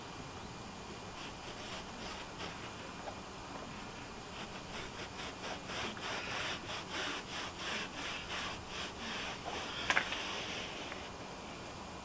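A cloth rubbing methylated spirits along the velvet strip of a window seal, giving a steady run of soft, rhythmic scrubbing strokes heard close up with no one speaking.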